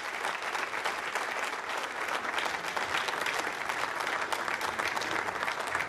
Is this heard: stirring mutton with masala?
no